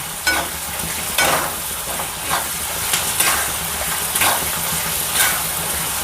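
Onions and peanuts frying in a pan for Vidarbha-style ukadpendi, a continuous close sizzle with periodic clinks and scrapes of a spoon against the pan, no talking.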